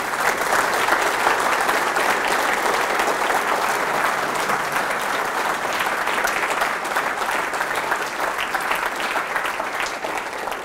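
An audience in a University of Birmingham lecture hall applauds to welcome Professor Ard Louis: steady, sustained clapping from many hands, close and full, with no speech over it.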